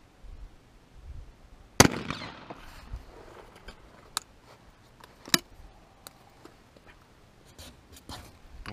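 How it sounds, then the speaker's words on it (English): Percussion-cap gun fired at a 3/4-inch cardboard or plywood target: one loud sharp crack followed by several quieter, irregularly spaced pops and snaps over a faint background. "I'm going to shoot at the middle of the 3/4 cardboard there"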